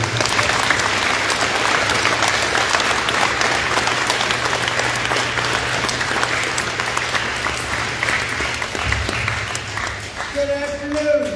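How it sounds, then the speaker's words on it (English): Sustained applause from an audience at a Veterans Day ceremony held at a school, dense clapping that stays loud for several seconds before tapering off, with a few voices emerging near the end. "So let's help me give Mr. Ron Tomlin a big round of applause"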